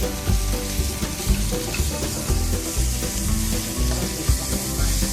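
Pork sizzles and is stir-fried in a pan with shrimp paste and garlic for a southern Thai stink bean dish, a loud continuous frying hiss with steady scraping and stirring clatter throughout.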